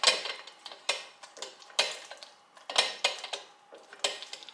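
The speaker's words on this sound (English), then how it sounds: "And just mix it all in." Homemade butter being stirred with about a tablespoon of salt, a spoon clinking and scraping against the bowl in a steady rhythm of roughly one stroke per second, close and fairly quiet, with no one talking.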